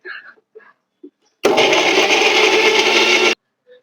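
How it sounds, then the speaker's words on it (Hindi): A mixer grinder grinding tomatoes whirs loudly and steadily for about two seconds, starting and stopping abruptly, after a few brief soft noises. "टमाटर हम अलग से पीसेंगे अभी फिर से मिक्सी में"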